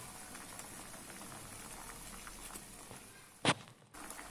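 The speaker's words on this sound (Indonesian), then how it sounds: "Oke, sudah mendidih" Liquid boiling in a pan while blood clams cook, a low, close bubbling simmer that continues steadily, broken near the end by one sharp clatter and a brief dip in sound.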